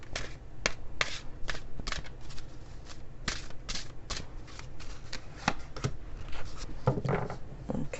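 A deck of Spirit Animal Oracle cards is shuffled close up, giving repeated crisp riffling bursts and soft slaps at an uneven rhythm.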